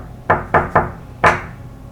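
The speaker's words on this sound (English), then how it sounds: "Can you knock back?" Four sharp, resonant knocks during a paranormal investigation aboard the Queen Mary ship: three evenly spaced raps, then a brief pause and a fourth, all loud and close in a quiet room.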